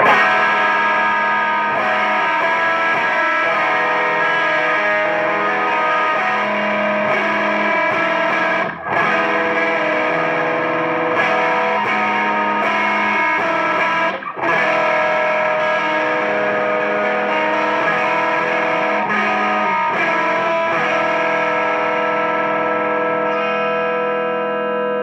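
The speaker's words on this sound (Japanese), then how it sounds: "何もクリッピングない状態なので、素直にもうガツンとオープンな歪みになってますね。" Electric guitar played through an EarthQuaker Devices Life Pedal V2 set to its open, non-clipping distortion mode, giving a loud, continuous chugging distorted tone with sustained chords and two brief dropouts, with no talking over it.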